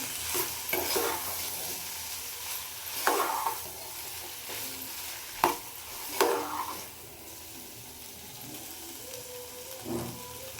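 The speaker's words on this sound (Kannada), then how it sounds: "ಇವಾಗ ಚೆನ್ನಾಗಿ ಮಿಕ್ಸ್ ಮಾಡಬೇಕು ಇದನ್ನು." A spoon stirs Karnataka-style potato palya in a pan, giving soft scraping clatters at irregular moments over a low, steady sizzle, fairly quiet.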